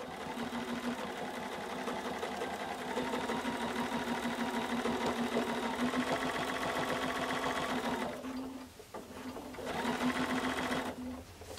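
Sewing machine stitching free-motion quilting, a steady rapid needle chatter with a motor hum, running continuously and briefly pausing near the end before resuming.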